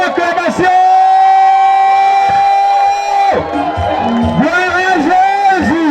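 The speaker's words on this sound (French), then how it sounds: "Est-ce que ça ne mérite pas acclamation?" A crowd at a church prayer gathering raises a loud, sustained acclamation of shouts and cries, with voices rising and overlapping close by.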